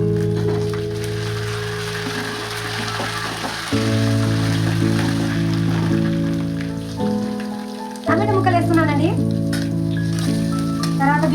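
Two sprigs of curry leaves sizzling in hot oil for a prawn and ridge gourd curry, a loud continuous crackling hiss with a sharp burst partway through, backed by a steady background hum.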